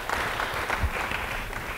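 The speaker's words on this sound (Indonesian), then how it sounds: "Beri tepuk tangan bagi dia." Congregation applause during a church service, a steady, moderately loud wash of clapping from a crowd that holds evenly for a couple of seconds without any talk.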